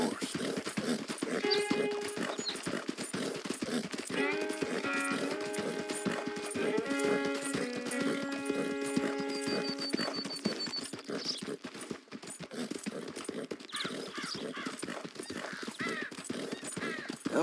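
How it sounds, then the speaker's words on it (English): Horse hooves clip-clop steadily through the Red Dead Redemption 2 game world, a continuous rhythmic gait running under a bed of game music and ambient sound. "Ain't you a good horse?"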